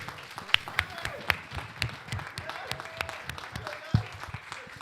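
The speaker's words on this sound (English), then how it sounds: "Let's give a round of applause for our spiritual." A church congregation at a Mother's Day service applauds, a soft, scattered patter of clapping with a few sharper claps standing out, moderately distant and continuing for about five seconds.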